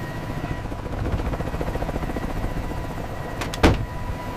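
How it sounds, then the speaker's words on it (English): A military helicopter descends, its steady thudding rotor drone loud and continuous, with a sharp brief clatter near the end. "The helicopter descends."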